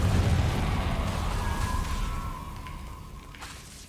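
Incendio fire spell cast in the Hogwarts Legacy video game: a loud burst with a rushing, flaring whoosh that carries a thin ringing tone and slowly fades, with no voices.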